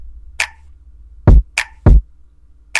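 A programmed trap-style drum pattern in FL Studio: deep booming kicks alternating with sharp finger-snap hits, sparse and evenly spaced, loud and close with no voice.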